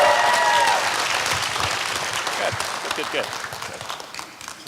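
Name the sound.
audience applauding and cheering for Tony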